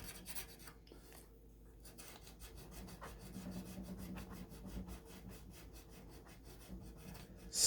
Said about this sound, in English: basically you're just filing it down and getting it back to its original shape